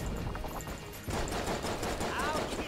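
Rapid gunfire from the Judge in Enter the Gungeon, a dense crackle of repeated shots that grows busier about a second in, mixed with game effects and background music.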